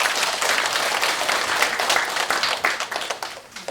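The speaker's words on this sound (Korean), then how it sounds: "박수 한번 부탁드립니다" An audience at a Buddhist temple lecture claps in a sustained burst of applause that stays dense and fairly loud, then tapers slightly toward the end.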